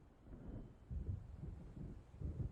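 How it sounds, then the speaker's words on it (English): Low, distant thunder rolls in soft repeated swells as a storm approaches in the Alan Wake video game, faint and without any voices. "It seems there's a storm coming."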